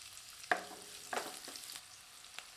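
Soft sizzling of onion frying in oil in a pan, quiet and close, with a few sharp stirring clinks scattered through.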